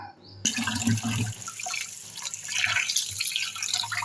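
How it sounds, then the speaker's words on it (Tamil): Ration rice being washed by hand in water gives soft sloshing, swishing and trickling sounds close by, with light splashes that rise and fall unevenly after a brief quiet start. "இப்போ இதை வந்து தண்ணி கழுவிட்டு நான் காட்டுறேன் பாருங்கள்"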